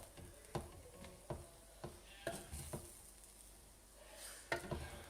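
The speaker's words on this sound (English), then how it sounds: "So now what I'm going to do is stir everything up." Pumpkin rice being stirred in a pot, with a spoon knocking and scraping through the grains in a handful of distinct strokes over a soft background sizzle. The sound is close and quiet.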